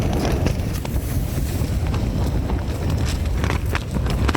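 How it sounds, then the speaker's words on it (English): Steady, loud wind buffets the microphone high in the Făgăraș Mountains above 2400 m, a continuous roar with gusty low rumble and no voices. "the wind is blowing here as well"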